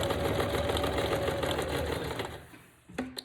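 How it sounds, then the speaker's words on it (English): Sewing machine running a straight stitch through a handmade greeting card, a continuous close motor whir with rapid needle rhythm that slows and stops near the end, followed by a couple of light clicks. "And stick it in my machine. I'm just going to do a straight stitch."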